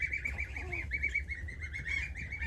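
Geese honking in a steady run of repeated nasal calls, fairly close, over a low rumbling background with no talk.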